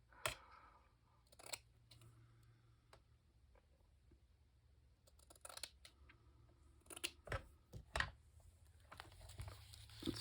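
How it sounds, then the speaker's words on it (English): Scissors snip through paper to trim it down, a few sharp, separate cuts and crinkles spread across a quiet room with soft handling noises between them. "I'm just going to cut this smaller."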